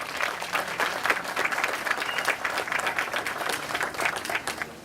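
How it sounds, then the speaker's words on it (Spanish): Audience applause for a speaker at an infrastructure event in El Salvador, a continuous patter of many hands clapping at moderate volume, sustained evenly for about five seconds. "Un aplauso, por favor, para Carmiña."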